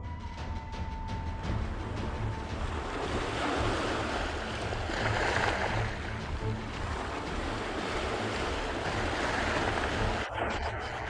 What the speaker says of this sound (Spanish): A marea alta, el muro de agua puede alcanzar casi 30 pies de altura y avanzar a unos 25 miles por hora